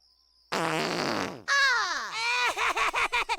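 A drawn-out, loud cartoon fart in a South Park scene, buzzing and sliding in pitch before breaking into a rapid series of wet sputtering pulses.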